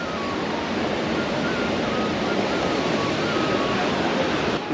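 Jamjir waterfall on a river in Gir, Kodinar taluka, known locally as the waterfall of death, gives a steady, loud, unbroken rush of falling water that holds level throughout with no voices.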